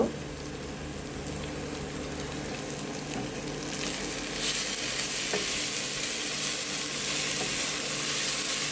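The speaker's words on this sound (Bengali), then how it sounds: "তেল দিয়ে মশলাটাকে আমি ভালো করে কষিয়ে নিচ্ছি" Spices for a duck meat curry fry in a little oil, a soft continuous sizzle that grows brighter and louder partway through, with faint stirring underneath and no voices.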